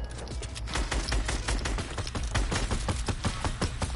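Rapid, sustained gunfire from a spammed weapon in Fortnite, a dense stream of sharp close shots rattling steadily without pause, loud and dominant with no talk over it.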